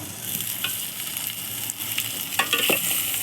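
Tomato and coriander powder frying in a pan for chicken curry, a steady close sizzle with soft stirring scrapes and a few sharper crackles near the end, with no voices.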